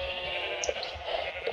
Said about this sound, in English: And sheep are looking at me, too.